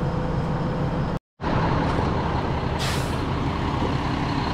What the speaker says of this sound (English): Got the next truck here.